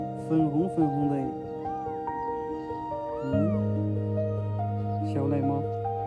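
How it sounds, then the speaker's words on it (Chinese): A newborn kitten gives a series of thin, high meows close by, some rising and falling, heard over a steady humming tonal background. "小奶猫。"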